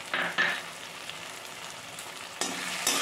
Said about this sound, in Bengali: ভালো করে আবার নেড়ে নেব।